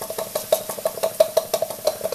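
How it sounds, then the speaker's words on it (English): A Uniflow-type steam engine with a large central exhaust chuffs on steam at a slow idle, a quick even run of sharp puffs and light metallic ticks, close and fairly loud, with no voices. "It's a type of Uniflow engine."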